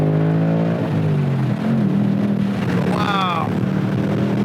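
A Ford Mustang GT engine revs hard with rising and falling pitch sweeps, loud and close, with a brief voice speaking over it partway through.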